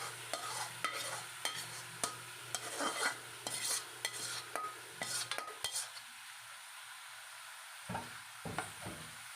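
Ground meat is stirred and fried in a pan, with a soft sizzle under repeated scraping and clacking utensil strokes; the frying fades partway through while the sharp stirring taps continue.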